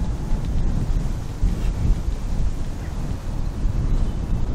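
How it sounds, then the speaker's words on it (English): Gusty wind buffets the microphone on an open golf course, a steady low rumbling roar that swells and dips without pause and with no voices. "Bit of a strange wind direction today."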